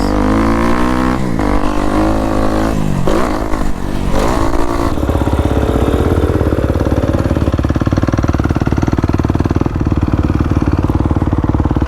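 Off-road motorcycles on trail riding at Durhamtown, an Off-Road Resort with about 6,000 acres of one-way trails, rev and clatter loudly close by, then settle into a steady, throbbing drone that runs the whole time with no talking.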